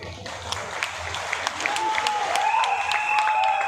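Steady applause from a crowd, sustained claps throughout with a faint whistle-like tone rising midway.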